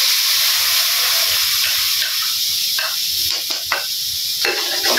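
A spice paste is fried in a pan with a steady hissing sizzle, punctuated by a few brief stirring scrapes and spits toward the end, close and fairly loud with no voices.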